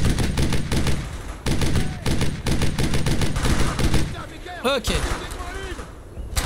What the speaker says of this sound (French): Je vais faire un petit tir de soutien.